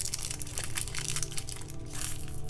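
A sealed plastic bag holding nine grams of wine-coloured rhombus-shaped beads is cut open, giving a steady close crackle and crinkle of plastic with small crunchy snips throughout and no talk.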